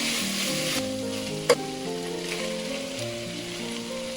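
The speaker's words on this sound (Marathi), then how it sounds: "दोन चमचे गोचुजँग पेस्ट घालून भाज्या नीट ढवळून घ्यायच्या" Vegetables with gochujang paste sizzle in a hot pan for tteokbokki, with steady crackling frying and a single sharp clink of a utensil partway through; no voices.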